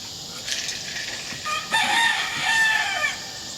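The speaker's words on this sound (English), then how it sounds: "I know y'all like to hear them roosters holler" A rooster crows once at a middle distance, its drawn-out call rising and then falling over a steady outdoor background hiss.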